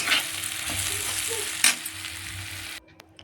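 A pan of vegetable curry cooks on the stove, sizzling and frying steadily with stirring scrapes and a brief clatter before the sound drops away near the end.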